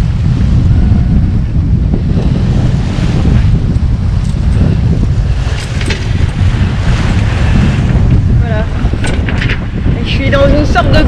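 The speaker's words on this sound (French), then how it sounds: "avec des vagues importantes par rapport à la taille du bateau, du vent de merde et un courant super fort" Strong wind roars across the microphone while choppy waves slosh and break around a small 28-foot sailboat beating upwind on a solo Pacific crossing; the rushing noise is loud and continuous.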